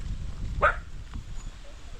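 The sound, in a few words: dogs barking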